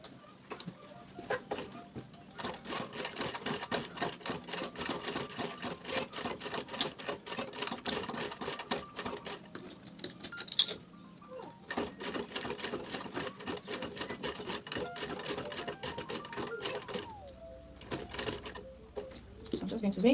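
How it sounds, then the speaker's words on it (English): Sewing machine top stitching a bag lining from the inside, a rapid close mechanical chatter in several bursts with short pauses, fairly faint, with a person talking between runs. "We're top stitching from the inside of the lining."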